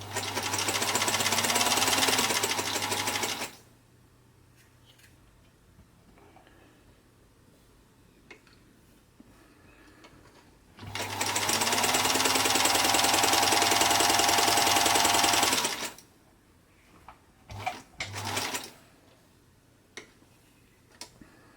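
A Singer 222K Featherweight sewing machine runs in two steady bursts of fast, even stitching, each a few seconds long, loud and close, with quiet pauses between them.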